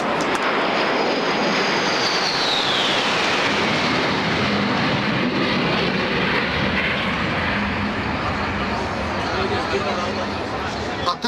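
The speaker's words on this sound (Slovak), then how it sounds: "Teraz bude hluk trošku väčší, pôjdu lietadlá Su-25" A Su-25 military jet aircraft flies past, a loud, sustained broadband engine roar with a descending whine that holds steady for the whole stretch, distant crowd murmur faintly underneath.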